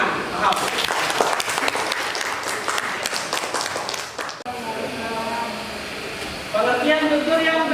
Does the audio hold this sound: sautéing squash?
no